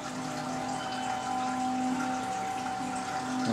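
A laundry machine running with water, a steady humming drone with a sustained tone and a washing rush beneath, constant and moderately loud, no voices.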